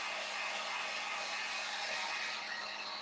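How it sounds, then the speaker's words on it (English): A heat gun blows steadily on a painted mason jar, a constant close airy roar with a faint hum underneath and no break for three seconds. "I have my heat gun, and I'm just going to dry this"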